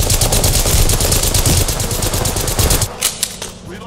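Automatic gunfire in the video game Apex Legends, rapid bursts of shots in a dense rhythm for about three seconds, then a few scattered fading reports.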